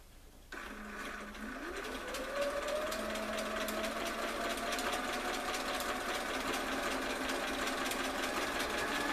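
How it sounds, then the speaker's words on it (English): A sewing machine stitches quilt strips together, starting abruptly and rising into a steady, close whirring hum with a rapid mechanical rhythm, heard alone without talk. "I just continue on sewing each strip to the last one"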